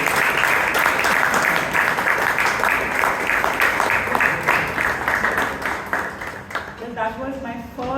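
Hearty audience applause at a Toastmasters club meeting in Bangalore, dense rhythmic clapping that tapers off near the end as a voice begins speaking.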